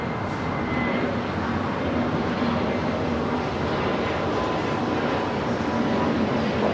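An Airbus A320 jet at LAX, departing on a flight to Guadalajara, gives off a continuous broad engine roar that holds steady and fairly loud throughout, with no talk over it.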